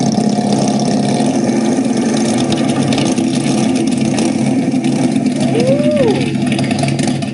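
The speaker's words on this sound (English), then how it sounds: "It sounds like motorcycle engines." Motorcycle engines drawing closer, a steady broadband rumbling drone that fills the whole stretch, with one brief voiced exclamation over it.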